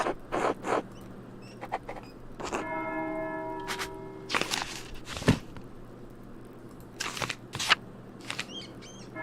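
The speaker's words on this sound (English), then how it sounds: "That's the bell for sext." A church bell ringing for sext within the medieval video game Pentiment, sounding as a sustained tone in the middle of the clip, surrounded by scattered short clicks and rustling game sounds.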